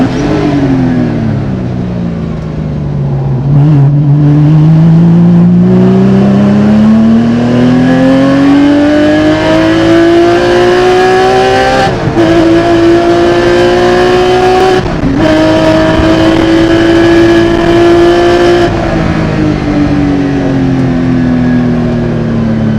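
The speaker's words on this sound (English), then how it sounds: "it's interesting to watch both Corvettes trying to make a run, while McCall in that Porsche is just trying to stay close to this pack" Corvette and Porsche race cars screaming around the track at the SCCA Runoffs in the T1 class, a loud sustained engine roar rising and falling through gear shifts, with no voices.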